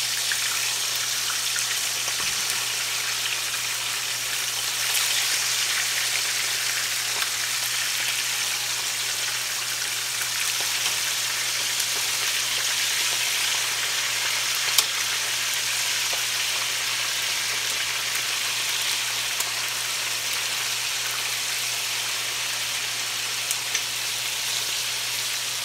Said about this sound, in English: But me, I'm just frying them right in the skillet.